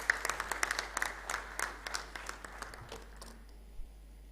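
A convocation audience welcomes the speaker with applause, a modest crowd clapping with distinct individual claps that fade out toward the end, heard somewhat faintly in a hall.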